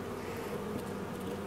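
Honeybees drone steadily around hive frames on a warm day, a dense, continuous buzz of many insects, close and fairly quiet, with no voices.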